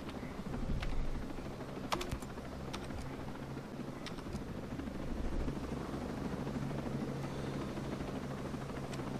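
A helicopter in the video game Ghost Recon Breakpoint gives a steady, low rotor drone throughout, with scattered keyboard clicks on top.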